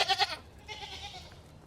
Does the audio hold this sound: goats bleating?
yes